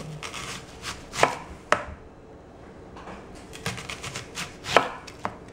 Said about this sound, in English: now we're going to slice the onion